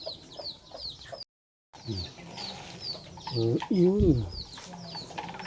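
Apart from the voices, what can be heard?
ducks calling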